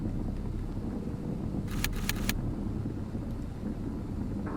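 A locked door rattles in the 2002 Resident Evil game, three quick metallic clacks over a steady low ambient rumble.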